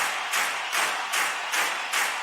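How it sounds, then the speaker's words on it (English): Crowd clapping rises and falls in quick repeated swells, a bright wash of many hands, fairly loud and continuous with no voices. "This is a crowd clapping."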